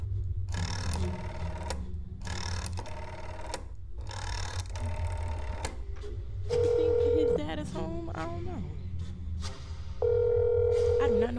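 A telephone rings twice in That's Not My Neighbor, each a steady electronic ring lasting about a second. Before it come repeated rhythmic clacking game sounds, with speech nearby.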